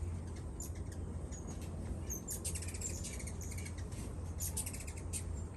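Hummingbirds at a feeder give high, thin chirps and squeaks in scattered bursts, some close and some farther off, over a steady low background hum.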